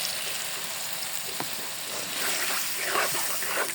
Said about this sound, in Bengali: এখন আমি পটল আলু কষানোর জন্য, সেদ্ধ হওয়ার জন্য পানি দিব।